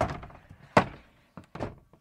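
A small door on a Laika Ecovip 712 A-class motorhome shuts with a single soft, close thunk, followed by a couple of faint knocks.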